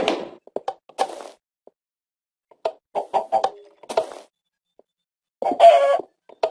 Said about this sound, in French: Certaines poules.